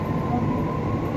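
A metro train runs through Alambagh in Lucknow, India, giving a steady, loud rumble and rolling hum that holds without a break.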